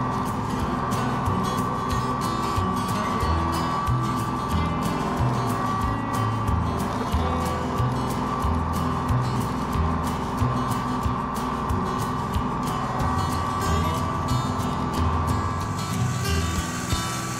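A tractor dragging a rear blade clears a woodland trail, its engine droning steadily and fairly loud throughout, with small bursts of rattling and scraping over the constant hum.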